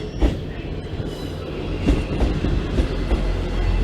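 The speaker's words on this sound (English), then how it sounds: "a class 158 East Midlands train service to Liverpool Lime Streets arrives in at platform 14" A Class 158 diesel train rumbles in at a platform at Manchester Piccadilly, low engine drone with rhythmic wheel clunks over rail joints, fairly loud and close.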